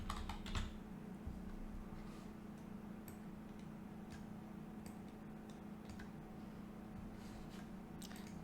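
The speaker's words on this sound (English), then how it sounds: "First we choose bold and we write Martha G. Santos." Typing text into a PowerPoint title slide on a computer keyboard, with soft scattered key clicks over a steady low background hum, fairly quiet and close throughout.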